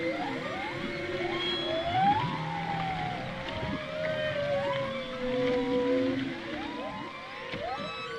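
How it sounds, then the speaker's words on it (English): Whales call underwater off Maui during whale season: long rising and falling moans and whistles overlap and repeat, some near and clear, others faint and distant, over a low watery rumble. "When you stick your head underwater during whale season in Maui, this is what you hear."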